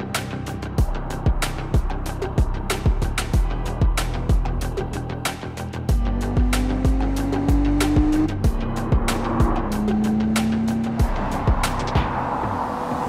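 A cheap sports car on a bumpy road, its chassis rattling: repeated sharp thumps and clunks jolt over a steady engine hum that rises in pitch partway through, close and fairly loud.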